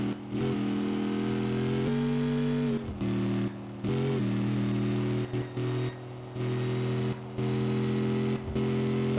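A four-speed car in the My Garage video game being driven and revved hard, giving a steady droning engine tone that rises and drops as it is wound out and shifted, with brief dips between gears.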